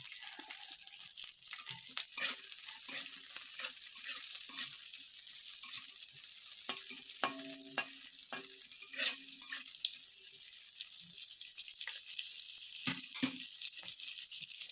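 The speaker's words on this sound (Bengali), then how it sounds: "এরপর আমি লঙ্কাগুলো দেবো, যে লঙ্কাগুলো আমি কুচিয়ে রেখেছিলাম।" Chopped green chillies frying with ginger in a pan over low heat for a vegetable kofta dish: a steady close hiss of sizzling oil, broken by scattered scraping and clinking of stirring, with no talk.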